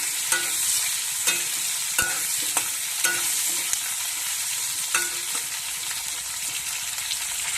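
Potatoes and onions fry in hot oil in a pan, a steady close sizzle punctuated by regular scraping strokes of a spatula stirring about once a second.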